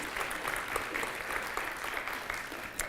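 An audience at a French talk on data applauds Bertrand Meyer, a steady, moderately loud wash of clapping hands heard from within the room.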